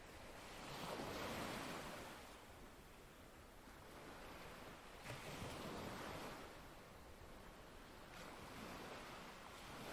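Ocean waves break on a beach of small black rocks below sheltering cliffs, a soft steady wash of surf that swells and recedes in slow cycles, with faint wind noise and no voices.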